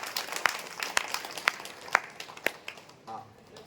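An audience at an ashram gathering claps for its gurus and sadhus, with fairly quiet applause punctuated by a few evenly spaced, sharper hand claps.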